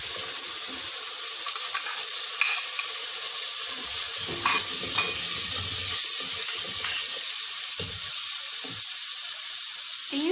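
Tomato paste and whole spices such as black pepper, cumin, cardamom and cloves fry in a pan for mutton siri, a constant loud sizzle and crackle with occasional stirring and no speech.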